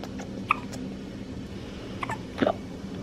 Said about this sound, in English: You got the hiccups, don't you?